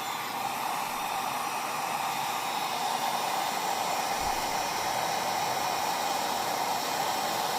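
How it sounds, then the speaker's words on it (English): Home Depot heat gun blowing hot air onto PVC pipe, a steady, close, unbroken whooshing roar with a constant fan hum throughout. "Home Depot heat gun. This is not a glorified hairdryer. This is a torch without the flame."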